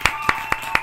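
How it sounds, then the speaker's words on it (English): Four sharp, evenly spaced hand claps close by, quick and isolated rather than a crowd, during a hip hop show's 100th-episode celebration. "Round of applause."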